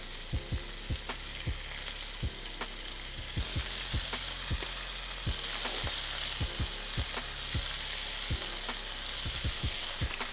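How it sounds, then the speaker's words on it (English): A steak sears in a hot pan with a loud, continuous sizzle that swells toward the middle, broken by repeated sharp clicks and knocks from handling, with nobody talking. "the sear is gonna add color, it's gonna add texture and flavor"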